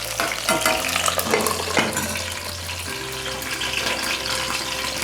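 Food frying in oil in a covered pan, a dense continuous sizzle and crackle with scraping stir sounds and a low steady hum under it, close and fairly loud throughout.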